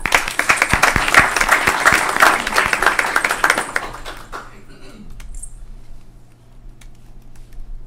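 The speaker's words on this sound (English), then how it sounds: "So let's give them a round of applause." Audience applause at a parks advisory board meeting: dense clapping for about four seconds, then it fades out into quiet room noise with some faint murmur.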